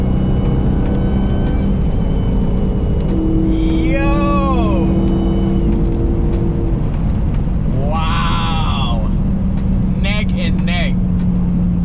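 A Dodge Charger 392 ScatPack and an Audi RS5 race side by side with a loud, sustained engine roar, rising pitch sweeps as they rev through gears, and people talking and shouting over it.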